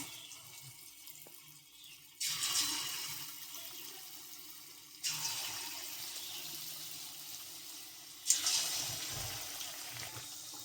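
Chicken pakoras go into hot oil on low heat in three separate batches, each raising a sudden hissing sizzle that settles into a softer, steady fry.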